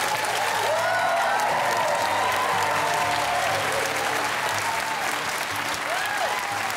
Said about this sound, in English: Let's have a fantastic round of applause.